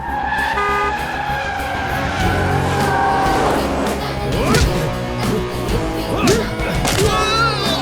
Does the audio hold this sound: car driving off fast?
yes